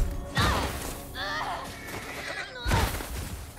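A horse in The Last of Us Part I whinnies twice, loud, shrill neighs separated by a gap, with a faint voice and some clattering between them.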